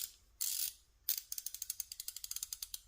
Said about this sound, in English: It came with a little Cobalt 3/8 ratchet.